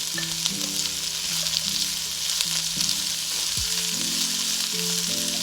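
Cabbage stir-fries in a hot pan over high heat for fried rice, giving a loud, steady sizzle with repeated scraping strokes of a spatula against the pan.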